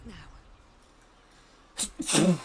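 A character sneezes in Baldur's Gate 3, a short sharp burst that comes right after a calm spoken line in the game.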